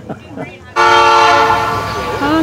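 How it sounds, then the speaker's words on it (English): A train horn sounds loud and close, a sustained multi-tone blast starting abruptly after a moment of speech and holding steady to the end as the train passes. "Honk, honk. Here comes the train."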